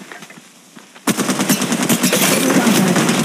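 Automatic weapon fire in Apex Legends Mobile with Bangalore, starting abruptly after a quiet second and continuing as rapid, loud, close bursts of shots for the rest of the moment.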